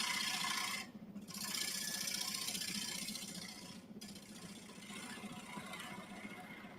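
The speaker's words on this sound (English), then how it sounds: "You can kind of hear how different the tool's cutting." Lathe tool cutting wood while turning a ladle, a continuous low rasping scrape over the hum of the spinning machine, with two brief breaks where the tool lifts off, fairly faint and steady.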